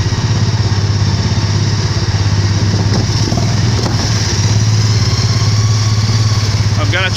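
Loud, rumbling hot rod engine running in second gear while driving, a steady throbbing drone close by with faint changes in pitch and a voice briefly present underneath.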